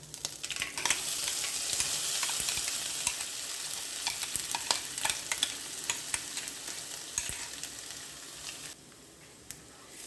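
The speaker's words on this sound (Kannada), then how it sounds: "ಇದನ್ನೀಗ ಎಣ್ಣೆಯಲ್ಲಿ ಸ್ವಲ್ಪ ಹೊತ್ತು ಬಾಡಿಸಿಕೊಳ್ಳುವ" Ground masala paste frying in oil with curry leaves and popped mustard seeds, a steady dense sizzle with scattered crackles and spatter pops, close and continuous with stirring throughout, easing slightly near the end.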